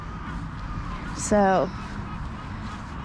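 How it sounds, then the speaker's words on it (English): A single herring gull gives one brief loud call outside by a sidewalk, standing clear above steady traffic noise. "We have our seagulls here, mostly herring gulls"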